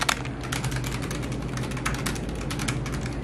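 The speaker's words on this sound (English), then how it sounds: "So I'm gonna type here." Rapid, steady keystrokes on a white Logitech G915 TKL wireless keyboard, close and clear, continuing without pause and with no talking.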